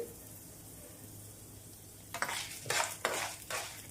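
Roasted gram dal is stirred into hot oil with cumin in a pan. After a quiet start, close scraping and clattering stir strokes come in irregular bursts over a faint sizzle, with no talk.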